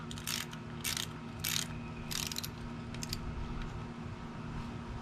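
Hand ratchet tightening bolts on a Honda Rancher 420 ATV during an oil change, several quick bursts of clicking separated by short pauses, fairly faint and close, with no voices.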